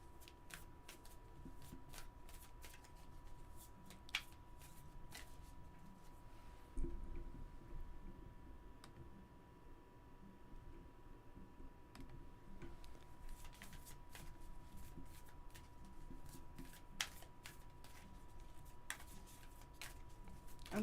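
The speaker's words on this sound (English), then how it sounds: "Okay, so we're going to do a little shuffle here" Soft, continuous shuffling of a tarot card deck with crisp flicks and riffles throughout, steady and close, with no talking.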